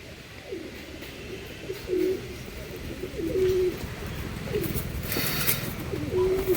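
Domestic pigeons, including Andhra Akash Pokuri birds, coo in a repeated low rolling rhythm close by, several calls overlapping against a steady room background.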